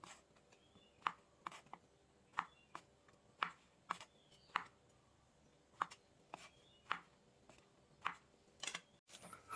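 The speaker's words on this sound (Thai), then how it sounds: "หั่นเห็ดฟางครับ" Steady series of soft knife chops slicing straw mushrooms on a cutting board, evenly spaced taps repeating for several seconds at close range.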